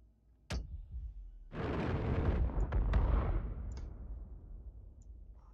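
Ship turret gunfire in Star Citizen, a sharp single shot followed a second later by a long heavy rumbling barrage with cracking bursts, fading slowly into a distant tail.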